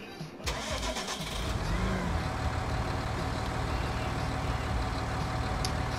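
Tractor engine in Farming Simulator 19 starting up with a brief crank, then settling into a loud, steady diesel idle with a continuous low rumble close by.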